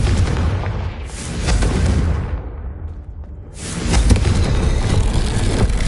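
Confringo spell explosion in a Harry Potter video game: a heavy booming blast with rumbling noise that drops away briefly and then surges back as a second loud roar.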